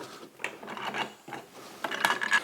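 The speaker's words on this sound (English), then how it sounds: "So I'm going to take off this cover here." Cover being taken off a Festool extractor, a few quiet plastic clicks, scrapes and rattles close by, irregular and brief.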